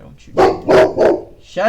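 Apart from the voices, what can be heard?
dog barking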